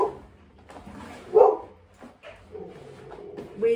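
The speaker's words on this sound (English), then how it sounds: "the dog is absolutely not happy with the amount of builders and machinery going" A dog barks in short, agitated bursts, loudest around the middle and end, aimed at road-closure builders and machinery outside an English cottage, with a few softer whimpering sounds between barks.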